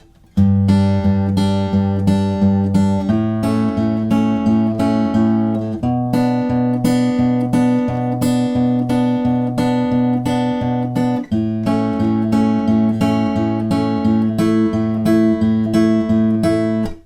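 A fingerpicked acoustic guitar plays the bridge of a song, with a steady pulse of picked bass notes under ringing upper strings. The chord changes come in even blocks, and it is close, clear and alone throughout.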